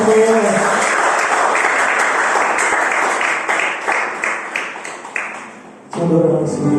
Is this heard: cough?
no